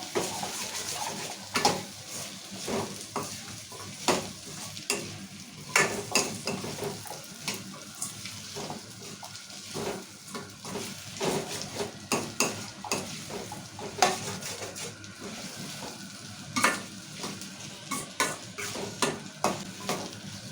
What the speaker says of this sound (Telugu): శామగడ్డ కూడా నూనెలో కొంచెంసేపు మగ్గించుకోవాలి